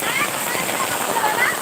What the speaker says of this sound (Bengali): দেখেন কত বৃষ্টি।